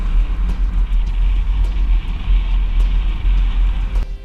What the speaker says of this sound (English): Here it is on our test course. We'll start by going through the slalom.